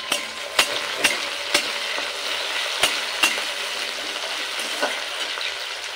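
Chopped tomato added to browned onions in a pan, a soft continuous sizzle with periodic sharp clinks of a spatula against the pan, close and with no voices.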